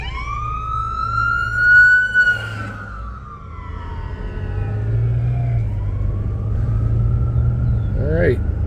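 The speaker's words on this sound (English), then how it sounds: "Wait for the ambulance to come through." An ambulance siren on a road across from a small-town post office in Hickory Corners, Michigan, sweeping up and down loudly, then fading as the vehicle passes, over steady traffic rumble.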